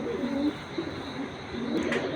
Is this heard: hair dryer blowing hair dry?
no